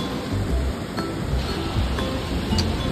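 Steady rushing water of Duduma waterfall in Koraput, Odisha, roars close by, a constant broadband wash with faint clinks and gusts of wind over it.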